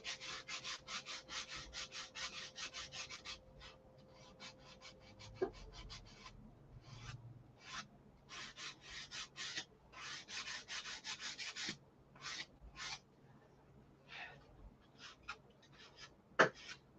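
Hand-held sander working a wooden part, heard as a long run of short rhythmic rubbing strokes with brief pauses, fairly quiet and close, with a few sharp knocks near the end.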